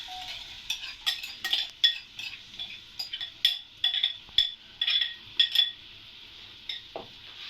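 Onions going into a cooking pot for couscous, a run of close, irregular clinks and scrapes of a utensil against the pot with faint sizzling between, ending in a short sliding rattle.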